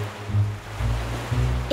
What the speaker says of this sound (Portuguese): Por isso que as ondas estão violentas.